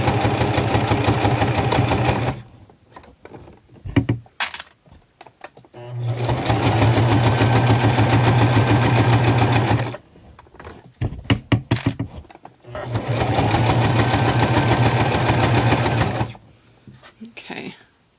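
A home sewing machine stitches a quilted fabric organizer in three long, steady runs of rapid mechanical whirring. Each run lasts a few seconds and is separated by short pauses filled with clicks and handling noises.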